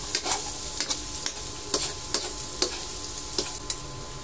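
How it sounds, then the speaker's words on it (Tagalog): Onion and garlic sautéing in a pan for adobong sitaw, with a steady close sizzle broken by repeated sharp scrapes and stirs of a utensil across the pan, and no talking. "Igisa lang po natin ng maigi hanggang mag-translucent ang sibuyas at bawang."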